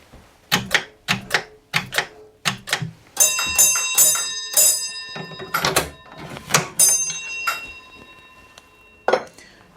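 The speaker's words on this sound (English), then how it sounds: "the bell signal here for asking permission for this type of train is 4 bells" Railway signal box bell and instrument sounds, sharp metallic strikes and ringing dings in clusters, with several clear bell tones that hum and decay, near and loud amid clunky mechanical knocks.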